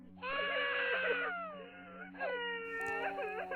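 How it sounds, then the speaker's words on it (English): Children crying as a horror sound effect, a close, loud wailing and whimpering with wavering, sobbing pitch in two long bursts separated by a short pause, over a faint low hum. "Children crying."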